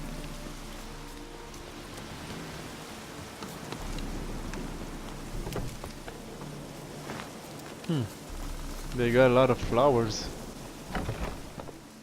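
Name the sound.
rain falling in the video game Witcher 3 Hearts of Stone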